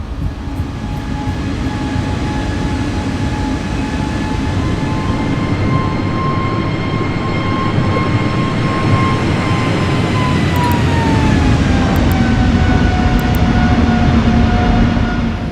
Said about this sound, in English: the plane took off from Barcelona airport